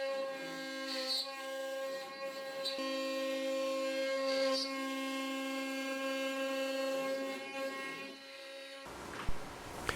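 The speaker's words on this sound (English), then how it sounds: "Then I'll jog the spindle back to the home position and start the carving process for the front of that headstock face." A CNC spindle whines with a steady high tonal hum while carving the front face of a wooden guitar headstock, with faint rubbing cut noise beneath. It drops out near the end, leaving a few brief clunks.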